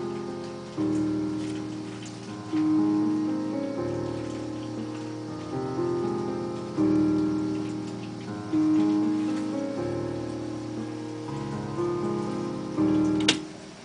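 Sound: Grand piano patch playing Hogwarts-style melody

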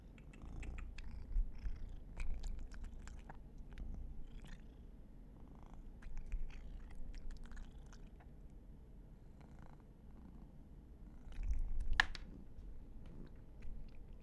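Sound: cat purring

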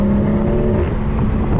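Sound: BMW 340i engine accelerating under throttle in third gear

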